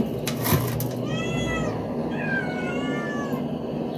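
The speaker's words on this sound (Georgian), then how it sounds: "სადამდე გააგრძელა ეს მიაუ" A cat gives two long, drawn-out meows close by, following a brief clatter, with faint room noise underneath.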